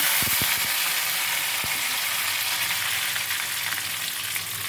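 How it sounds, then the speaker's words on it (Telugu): Tempering spices sizzle in hot oil with a dense, steady hiss, with a few sharp clicks near the start, close and continuous throughout. "ఈలోగా తాలింపు కూడా వేసేస్తున్నాను"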